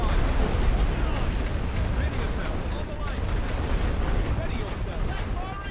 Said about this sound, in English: Load light suppression shells. I'll throw some light artillery here and some light artillery here.